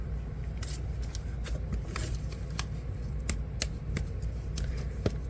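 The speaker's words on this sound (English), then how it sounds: "fold it and make sure that it's folded really good using a bone folder" A bone folder creases a sheet of clear vinyl, making close, crisp crackling rustles broken by sharp snapping ticks throughout.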